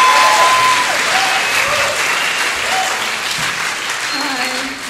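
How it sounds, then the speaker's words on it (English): Loud, sustained applause from an audience at a choir's Broadway-themed show honoring the tech team, a dense steady clatter of many hands with faint voices and cheers mixed in, tapering slightly at the end. "Let's give them a big applause."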